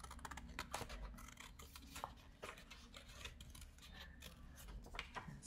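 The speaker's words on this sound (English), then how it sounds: "See, I'm cutting along the lines here." Scissors cut along drawn lines in paper to shape a puppet, producing a near, steady run of soft snips and rustling scrapes with no talk.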